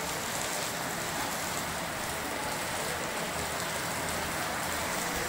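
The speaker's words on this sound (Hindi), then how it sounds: "बारिश ना बहुत भयंकर वाली बारिश हो रही है, बहुत ज़्यादा भयंकर वाली।" Heavy monsoon rain pours steadily during Sawan, a dense, even hiss of drops on surfaces that stays continuous and close throughout, with no talk over it.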